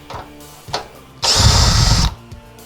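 A power tool spins off a side bolt on a Maserati Ghibli during parking light repair, with a loud, steady whirring burst of just under a second after a few light clicks and handling knocks.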